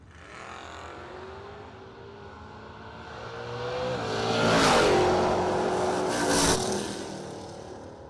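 Drag race cars, a Mustang and a Roadster, launch at a no-delay drag race; engines rev and scream loudly, rising as they pass close with sharp bursts of exhaust noise over a steady rumble.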